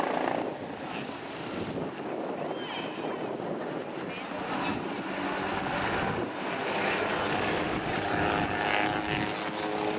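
A Bell UH-1 Iroquois Huey helicopter with an uprated engine, new transmission and new main and tail rotors runs at an air show, a continuous rotor and engine roar under an announcer's commentary.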